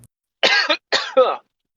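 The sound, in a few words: cough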